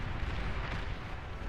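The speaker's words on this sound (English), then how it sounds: "that was a brutal converter explosion too" A converter explosion in the real-time strategy game Beyond All Reason comes through as a dense, continuous rumble of booming blasts, loud and sustained with no speech over it.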